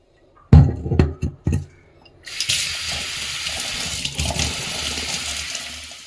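A tap opens into a bathroom basin after several knocks and clunks, then water runs steadily and loudly as a lucky bamboo plant and its stones are rinsed.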